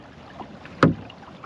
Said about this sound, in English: where you hear the fin hitting the hull